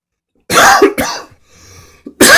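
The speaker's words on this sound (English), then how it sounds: "Sorry, I got one of those tickly coughs again." A person coughs with a tickly, dry cough at close range, two sharp hacks followed by a throat-clearing rasp, a short pause, then another loud cough.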